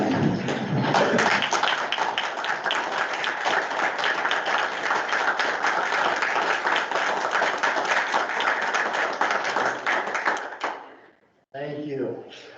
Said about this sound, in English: Stand and applaud, please.